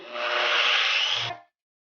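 Car detailing product smeared by hand across the paint of a 2017 Honda Civic Si, heard as a steady, close rubbing swish for about a second and a quarter, then stopping abruptly.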